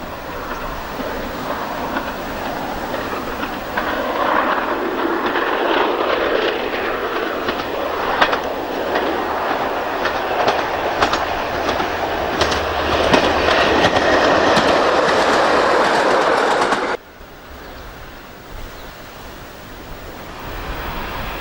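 A British Rail Class 101 diesel multiple unit rolls past at Buckenham, a loud sustained rumble with rail clatter building over about seventeen seconds, then cutting off abruptly to quieter ambient noise.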